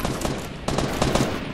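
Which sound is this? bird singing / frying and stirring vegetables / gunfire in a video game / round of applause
gunfire in a video game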